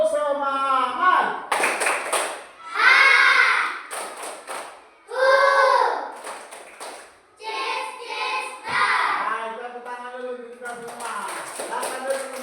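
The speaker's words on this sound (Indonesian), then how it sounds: "Ayo semuanya, tepuk semangat." Students in an Indonesian classroom stand and perform a group spirit clap, bursts of rhythmic clapping alternating with chanted voices, loud and close, with a teacher speaking between rounds.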